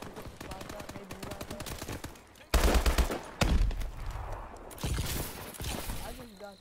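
Rapid automatic gunfire from a gun in a video game, loud bursts of fire mixed with game effects and a talking voice over the top.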